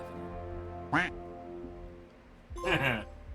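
A duck in the video game Hitman 2 quacks in two loud, close bursts of nasal quacking, separated by a short gap, over a steady hum of background music.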